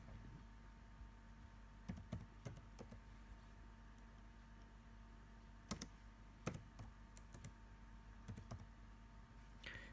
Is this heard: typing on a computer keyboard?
yes